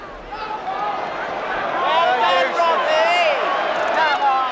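A football crowd in a packed ground jeers and groans in disapproval at a refereeing call over a retaken goal kick, a sustained loud roar of voices with whistles, a commentator talking over it.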